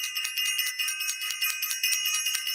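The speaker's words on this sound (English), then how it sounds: "I want to ring the bell again." A small bell rung repeatedly in a quick jingling rhythm, thin and bright, moderately faint, continuing steadily for a couple of seconds with no talk over it.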